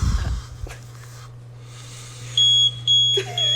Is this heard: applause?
no